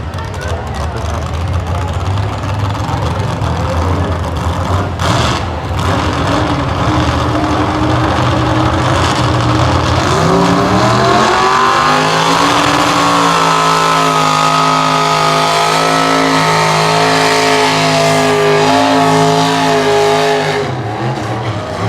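A big pulling tractor engine roars loudly and continuously down the track at a tractor pull, climbing in pitch as it revs hard partway through, with an announcer talking over it.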